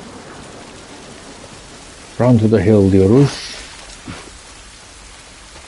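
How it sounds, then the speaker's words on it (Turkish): Steady rain falling in the video game The Last of Us Part I, a constant hiss of rainfall heard throughout while someone briefly talks over it in the middle. "Yağmur yağması hiç iyi olmadı."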